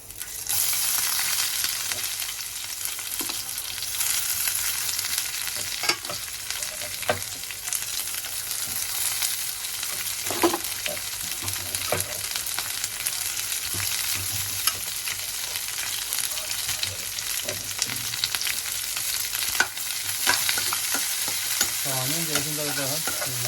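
Sliced onions and curry leaves hiss and crackle in hot oil while being stirred continuously, utensil scrapes and taps recurring throughout, close and steady, with a brief clatter near the end.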